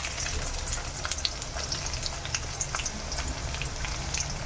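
One medium-size chopped onion fries in hot oil with curry leaves for Andhra-style puffed rice ugaani. A dense, steady close sizzle runs throughout, with crackling pops scattered over it and no voices.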